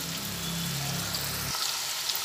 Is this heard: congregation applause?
no